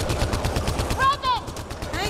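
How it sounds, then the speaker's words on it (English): Rapid gunfire from the video game Mass Effect: Andromeda, with rhythmic, evenly paced bursts close up and a brief whooshing sci-fi tone midway. "I guess we just shoot them"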